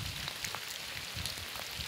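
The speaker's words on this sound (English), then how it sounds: "It's raining today, but it's not too bad." Rain falling steadily in a park on a wet grassy course with puddles, a dense close patter of drops hitting the ground and surfaces without any talking.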